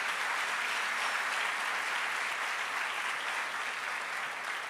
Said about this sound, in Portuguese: Vamos aplaudir Jesus pela vida dele